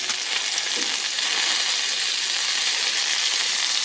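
Bacon sizzles in a pan, a dense, bright, unbroken crackle and hiss held close and fairly loud for a few seconds, with no voices.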